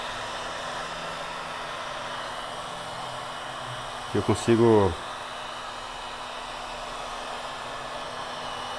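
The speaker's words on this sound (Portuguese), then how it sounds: "Eu vou usar o secador térmico para me acelerar a secagem da tinta" A heat gun drying paint during a painting lesson gives a steady, even rushing hiss throughout, with a brief spoken phrase midway.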